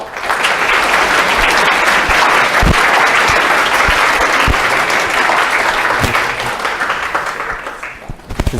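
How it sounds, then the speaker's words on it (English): A large audience applauds loudly to welcome a speaker at an astronomy public talk, a dense, steady wash of clapping that holds for several seconds before thinning out near the end. "So let's all give Matt a warm applause."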